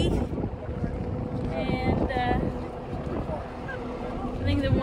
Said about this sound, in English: ATV ride, super windy